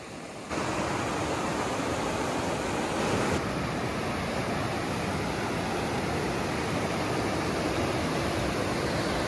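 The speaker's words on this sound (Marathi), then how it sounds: "खळखळ वाहणारं पाणी आहे." A shallow but very fast village river, less than knee-deep, rushes and gurgles steadily in a loud, continuous broadband roar close by, with no voices.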